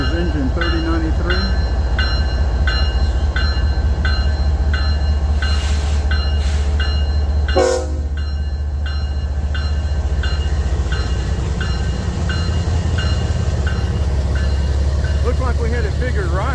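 CSX freight locomotive 3093 rolls past at Resaca, Georgia, with a heavy low rumble and regular rhythmic wheel clicking, close and loud, interrupted briefly by a sharp clank midway.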